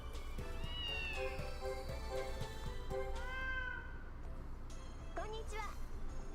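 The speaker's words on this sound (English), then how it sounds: "It's a cat." Repeated cat meows from the Japanese cat-care game Simple 1500 Jitsuyou Series Vol. 16 Neko no Kaikata, rising and falling cries over steady background music, with a few brief sounds near the end.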